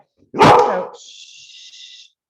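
A dog barks once sharply and loudly indoors, followed by a brief high whine that trails off, close to the microphone with no talking.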